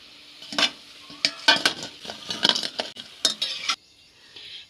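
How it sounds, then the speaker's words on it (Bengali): Mango fritters are lifted out of hot frying oil, giving faint sizzling under a series of sharp metal scrapes and clinks from a utensil against the pan, close up with brief pauses. "বড়াগুলো খুব ভালোভাবে তেল ছেঁকে আমি তুলে নেব।"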